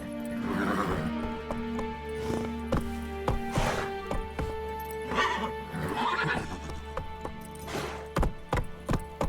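Roach, a horse in The Witcher 3: Wild Hunt, whinnies and snorts repeatedly over steady clip-clop hoofbeats of galloping, loud and close with a recurring rhythm.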